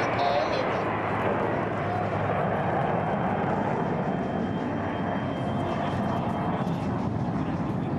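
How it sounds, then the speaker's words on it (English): US Air Force F-22 Raptor jet flying past at an air show at Nellis Air Force Base, a steady, loud broadband engine roar that holds for the whole stretch, with an announcer's voice underneath. "And the United States Air Force F-22 Raptor"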